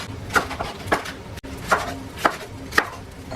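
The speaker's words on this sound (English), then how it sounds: "So just cut this up in some bite-sized pieces" A knife chops cucumber into bite-sized pieces on a board for a Thai-style smashed cucumber salad, six crisp evenly spaced knocks, close and fairly loud, with no talking.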